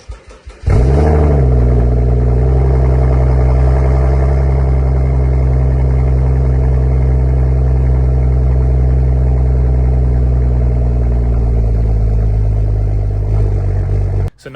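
A rebuilt car engine cranks briefly, catches and runs at a steady, loud, rumbling idle for about fourteen seconds before shutting off abruptly.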